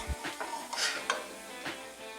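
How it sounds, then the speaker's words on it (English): Rice is tipped into cooked venison in a crock pot, producing a few close, scattered scraping and clattering bursts with light rustling over about two seconds, with no speech. "And I'm going to add my rice."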